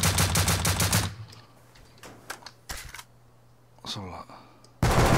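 AK assault rifle firing in the video game Rust: a loud, rapid automatic burst of closely spaced shots for about a second, then a lull with a voice talking, and another burst erupting at the very end.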